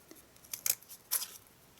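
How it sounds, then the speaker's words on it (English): Scissors snipping into So Saffron cardstock, two or three short, crisp cuts close by in an otherwise quiet room. "you just get your scissors and don't go all the way down to the bottom"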